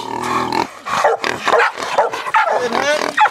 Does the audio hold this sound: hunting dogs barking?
yes